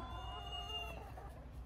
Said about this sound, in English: Careful, because those chickens will jump up in there and knock them over.